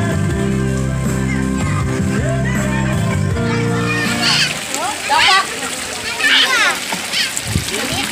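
Water splashes and sloshes in a pool as a child swims, loud and irregular, while children's voices and adult talk carry over the scene.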